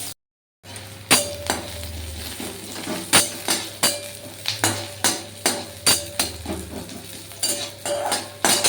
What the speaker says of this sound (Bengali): পেঁয়াজটা ভালো করে একটু ভেজে নিতে হবে একটু ভেজে নিই